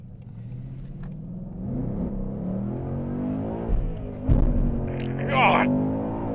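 A car engine drones and climbs under acceleration as turbo boost builds, a low rumbling pull that swells and surges near the end, with a person speaking over it.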